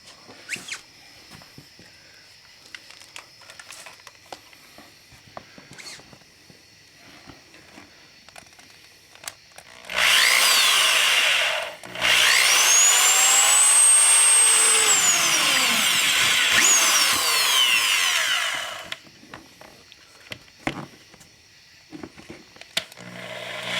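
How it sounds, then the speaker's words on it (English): A power drill whines loudly in two sustained bursts drilling holes in a bumper bracket, the pitch rising as it bites, with a brief pause between and quiet shop clatter before and after. "you're going to want to remove your bumper bracket again to drill your new holes"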